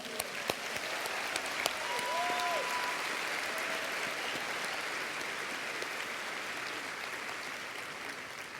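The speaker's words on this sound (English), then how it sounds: "So round of applause to all of you." A large crowd at a public talk on peace of mind with the Dalai Lama claps in sustained, even applause that fills the whole stretch, with a few faint voices and a brief tonal sound early on.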